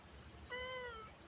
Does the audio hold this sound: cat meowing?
yes